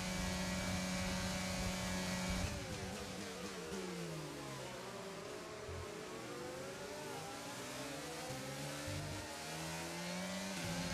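F1 22 video game race in an online lobby, with several Formula 1 car engines screaming and revving nearby, pitches sliding up and down as cars accelerate and shift gears together in a continuous, dense pack sound.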